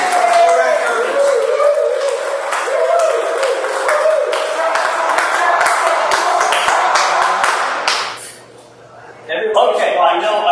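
An audience gives a speaker a loud, dense round of applause that lasts about eight seconds and then dies away. After a brief lull, a voice starts speaking.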